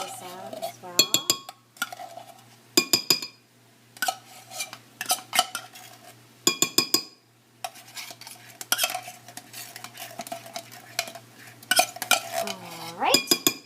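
Tater tot casserole mixture scooped from a container, with repeated close scraping, clinking utensil and dish sounds in irregular bursts separated by short pauses, and occasional faint sizzle underneath.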